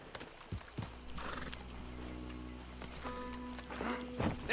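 Horse hooves clip-clopping in Red Dead Redemption II, a few distinct hoof strikes over a low steady hum, with tonal game sounds layered in and a brief snort toward the end.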